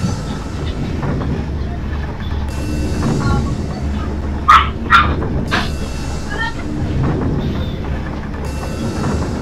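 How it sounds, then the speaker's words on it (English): Two short dog barks from pet dogs cut in partway through, sounding close and sharp over a steady rumble of train-like game background noise. "And cue my dogs running."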